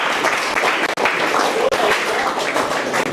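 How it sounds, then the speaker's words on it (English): A crowd at a school cricket player draft at St Charles College breaks into close, loud applause, a thick continuous patter of many hands with a couple of tiny momentary gaps, lasting about three seconds. "Let's give him a round of applause, please"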